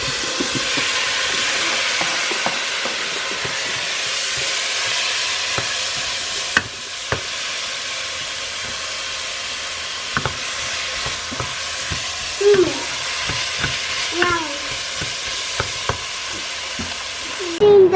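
Tomato sizzling and frying in a pot for palak paneer, a steady close hiss with occasional stirring scrapes and a few brief pops toward the end.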